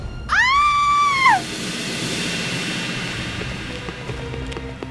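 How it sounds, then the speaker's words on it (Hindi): A shrill scream rises and holds for about a second, then cuts off, leaving a steady hiss and faint background noise. "चीखने की आवाज तो यहीं से आई थी"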